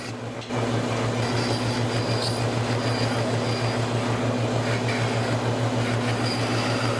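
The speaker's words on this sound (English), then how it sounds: "I've got that piece at the bandsaw, and I'm doing some shaping on it." Bandsaw shaping a wooden piece in a workshop, a loud continuous motor hum and blade whir that starts abruptly and holds steady up close, with no talking.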